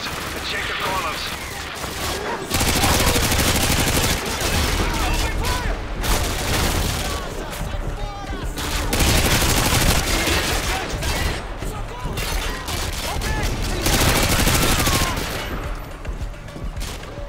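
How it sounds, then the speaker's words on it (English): Sustained bursts of automatic gunfire and explosions from a Call of Duty: Modern Warfare 2 battle, loud and dense, with machine guns and RPGs firing from elevated positions; heavy firefights come in waves throughout, under occasional voices. "Close calls with RPGs and machine guns positioned up high."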